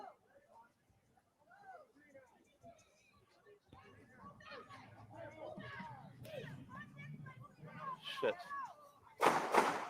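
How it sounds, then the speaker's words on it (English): Distant gunshots pop faintly and irregularly outdoors, mixed with people talking nearby. A louder, sharper burst comes at the very end. "These seem to be gunshots."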